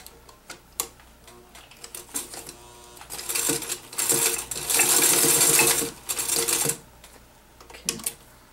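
A sewing machine stitches the sides of a window for a zippered lining pocket in short, uneven runs of rapid mechanical ticking, with one longer sustained burst in the middle and pauses in between.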